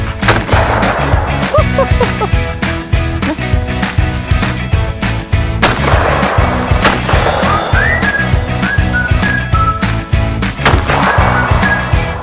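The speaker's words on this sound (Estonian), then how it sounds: "Hea sõber Lembit õpetab mind laskma." Shotgun blasts ring out at Rahna shooting range in Pärnumaa, Estonia: loud, sharp reports in an irregular series, with dense noise and tonal sounds running underneath.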